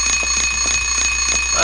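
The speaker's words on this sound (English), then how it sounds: "Oh, that's an alarm clock." An alarm clock in the video game Silent Hill 3 rings in a steady repeating pattern of shrill electronic beeps, fairly loud and evenly spaced against a constant background hum.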